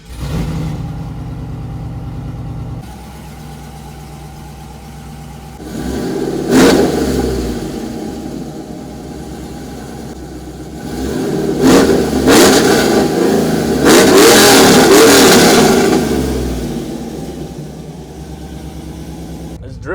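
A 5.3 V8 single cab pickup truck being driven, its engine revving up in several loud surges over a steady rumbling idle, close and prominent with no talk over it.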